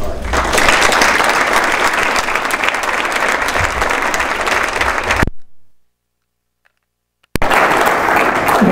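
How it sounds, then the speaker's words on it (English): Loud, sustained audience applause welcoming a lecturer at a Westminster lecture, cutting to near silence for about two seconds before the clapping resumes just as strongly. "Please join me in giving a warm Westminster welcome to General Richard Harding."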